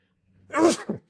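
A single sharp sneeze bursts out close by, a quick intake followed by a loud explosive release and a short trailing tail, alone with no talk.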